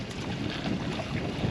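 Strong wind buffets the microphone in a continuous rough roar, with open water sounds faintly beneath, no voices, in Florida mangroves.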